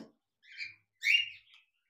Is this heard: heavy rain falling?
no